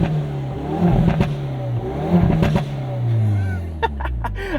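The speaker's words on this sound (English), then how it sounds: "Put us straight into N mode so you guys can hear this exhaust ricochet off this brick building here" A 2022 Hyundai Veloster N exhaust revs hard several times in N mode beside a brick building, a deep throaty roar rising and falling with sharp pops and crackles toward the end.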